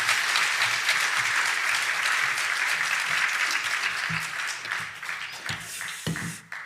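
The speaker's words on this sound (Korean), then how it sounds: "목사님 힘내시라고 박수 한번 모시겠습니다." A church congregation applauds the pastor during a Korean worship service, a thick, sustained round of clapping that holds steady and then thins out and fades near the end.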